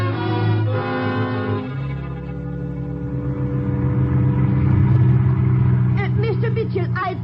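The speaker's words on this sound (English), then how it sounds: "We get into the car and drive here to the edge of the city." A car engine starts and drives off as a radio drama sound effect, heard as a steady low rumble with tonal layers that lasts the whole stretch and swells slightly toward the end.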